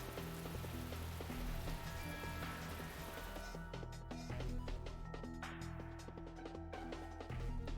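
Steady rain falls in a visual novel game scene, a soft continuous hiss under faint background music, with no speech.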